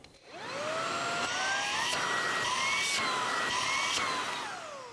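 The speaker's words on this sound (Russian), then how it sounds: "Это хардкор настоящего пылесосания." A vacuum cleaner runs on turbo mode with a steady, loud whine whose pitch rises and falls slightly as the suction changes. It is used on click-lock quartz vinyl flooring, and no voices are heard over it.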